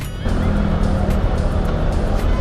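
Road traffic heard from a 2024 Kawasaki ZX-6R on a wet road, a dense steady rumble of engines and tyres close by, with a low motor drone underneath.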